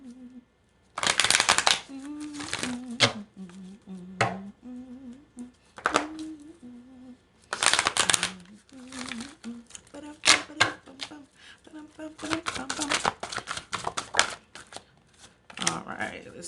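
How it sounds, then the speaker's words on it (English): Angel oracle cards are shuffled in several riffling bursts, close and crisp. Someone speaks throughout, sometimes between the shuffles and sometimes over them. "I'm gonna pull an angel card, and we'll see with that one."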